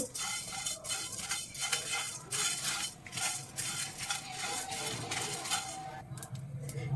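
Fennel seeds, cinnamon and spices dry roasting in a pan, stirred with a utensil that scrapes and clinks steadily against the metal, with faint crackling beneath; a moderate, continuous kitchen texture with no talking.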